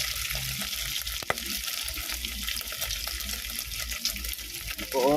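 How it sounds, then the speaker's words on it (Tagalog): Steady sizzling and crackling of food frying in cooking oil in a pan, close and continuous, with a sharp clatter near the start and a brief stirring or splash toward the end. "Pirituhin natin ngayon guys hanggang mamula-mula."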